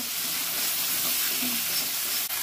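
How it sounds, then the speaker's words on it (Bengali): Ginger, white mustard and poppy seed pastes fry in hot oil in a pan while being stirred, giving a steady close sizzle and hiss with faint scraping, no voices. "আদা বাটা দিয়ে দেবো, সাদা সর্ষে বেটে রেখেছি, পোস্ত বেটেছিলাম, দিয়ে দেবো। আমি কষিয়ে নেব।"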